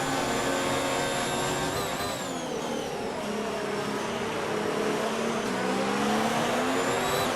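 Formula 1 race car engines from the F1 2019 video game at the Austrian Grand Prix, a loud continuous high-pitched whine with rising and falling revs as cars battle closely, multiple engine tones layered together.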